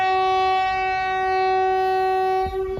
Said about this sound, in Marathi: ओके, ट्रेन निघाली.